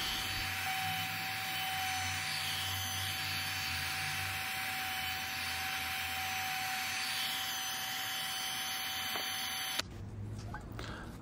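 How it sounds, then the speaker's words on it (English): A Milwaukee palm router rounds over a wood edge with a loud, steady high-pitched whine that holds for about ten seconds, then cuts off abruptly, leaving faint background noise. "Got this Milwaukee palm router on a discount a couple months ago"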